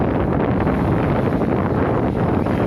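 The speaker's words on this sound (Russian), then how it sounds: "Ветер, он на море всегда ветер" Wind on a sea beach at Dolzhanskaya buffets the microphone in a continuous loud, broadband roar that stays steady the whole time.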